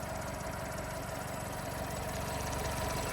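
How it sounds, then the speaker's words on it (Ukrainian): A Volkswagen Golf 1.6 MPI engine idles steadily, a low even hum with a fine regular knock, close by and unchanging with no voices. "Двигун працює тихенько, зайвих шумів немає."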